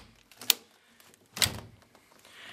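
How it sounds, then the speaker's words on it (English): A ratcheting cable cutter with telescopic handles bites through cable in two sharp crunching snaps, close and fairly quiet, with faint handling clatter between them. "And now it cuts through the cable because of the ratcheting position here"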